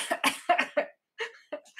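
A few short coughs in quick bursts, close and fairly loud, followed after a brief pause by a couple more softer coughs.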